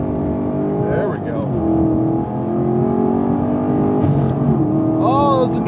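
Chevrolet Camaro SS 1LE V8 in track mode pulling hard and snapping through a no-lift upshift, loud in-cabin engine roar with rising harmonics, a quick shift dip, then climbing again, with talk over it.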